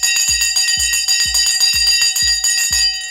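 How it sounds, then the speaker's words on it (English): A bell is rung to open a live stock market show: a loud, close run of about eight bright, ringing strikes in a quick even rhythm, each overlapping the last, with no speech. "It's time to ring the bell on the show this morning."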